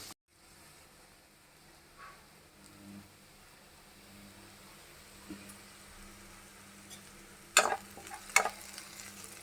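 Onions and green chillies frying in a pan give a soft, low sizzle, then a few sharper scrapes of stirring come close together near the end.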